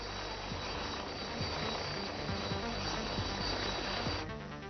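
A helicopter carrying a young man who guides a hunter over Switzerland, its rotor giving a steady, moderately distant chopping drone with faint rhythmic mechanical clatter.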